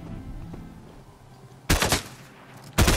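Video game gunfire from an NPC, two sharp bursts of rapid shots, the first about a second long and the second cut off at the end, loud against a quiet background.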